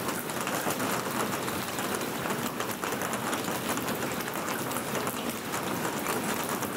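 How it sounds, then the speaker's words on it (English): Steady rain falls during the rainy season in Costa Rica, a dense continuous hiss of drops on surfaces, even and moderately loud throughout with no voices. "It's rainy season in Costa Rica, so I hope you're enjoying the sounds of the rain."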